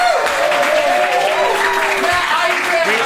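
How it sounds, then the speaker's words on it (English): At the end of a live show, the audience gives a round of applause: a sustained, loud wash of clapping with a few rising vocal whoops or voices mixed in. "Give us a round of applause"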